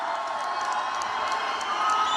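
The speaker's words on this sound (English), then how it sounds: "Boy, this is some crowd." A large political rally crowd in Reno, Nevada cheers steadily and loudly throughout, a dense continuous roar of voices with shouts and whoops rising near the end.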